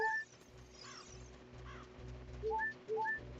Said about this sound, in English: Yeah, it's definitely the birds.